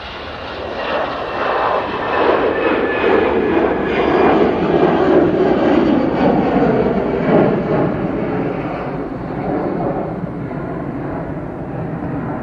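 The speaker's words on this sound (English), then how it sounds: "And this one is another EasyJet. This one's off to Munich." EasyJet airliner taking off from Manchester Airport bound for Munich: a powerful jet engine roar that swells over the first few seconds, peaks loud and near, then slowly fades and thins as the aircraft climbs away, with no talk.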